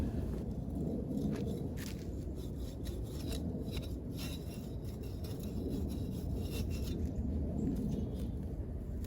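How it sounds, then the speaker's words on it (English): Vise grips clamped on a stuck rod during shed and equipment winterizing give a steady close scraping and rasping of metal under twisting effort, continuous without pause and with no talking. "with a pair of vice grips, I can clamp onto that rod and twist it"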